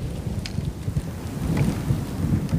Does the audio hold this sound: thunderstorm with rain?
yes